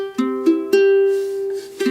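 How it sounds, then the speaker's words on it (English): Ukulele open strings strummed slowly from fourth to first, a few soft plucks ringing into a sustained open chord, close and clear with no talking. "when we strum them from 4 to 1, it sounds like this"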